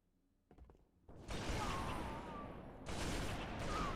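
Heavy, sustained sniper fire and explosive noise from a team video game map rumble loudly over a few seconds, preceded by fainter mechanical clicks.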